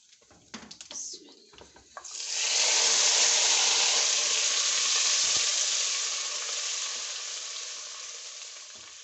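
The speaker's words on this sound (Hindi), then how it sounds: "चम्मच हम हिलाते जा रहे हैं ताकि अंदर जो है ना कोई गुठली वगैरह ना बने और बहुत अच्छे से ये सारा पक जाए" Mustard greens saag cooks in a pan, giving a loud, steady sizzle and bubbling that runs without a break, with a spoon stirring now and then. A few brief knocks and scrapes come before the sizzle begins.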